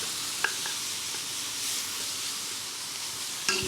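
Vegetables frying and caramelising in a pan for green pea dahl give a steady, soft, continuous sizzle with a couple of faint clinks, close and even throughout.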